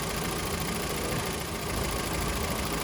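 A Volkswagen Passat B with an FSI engine idles roughly, giving a continuous, even mechanical hum and clatter with a diesel-like knocking texture, close and steady throughout with no voices.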